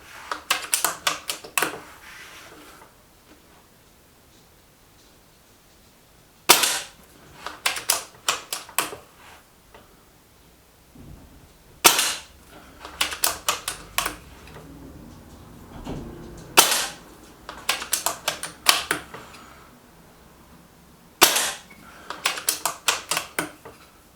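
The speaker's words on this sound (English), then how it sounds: "M11 back in, and it's target shooting. 5 into the centre target." An Artemis M11 air gun fires five shots at a centre target, each one a sharp, close crack spaced several seconds apart and followed by a quick burst of rattling clicks, with quiet gaps between.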